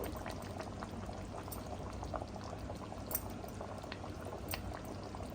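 Nellore-style fish curry with peeled, cut raw mango simmers on low in a pot, a continuous soft bubbling and popping with occasional small plops, steady and close with no voices.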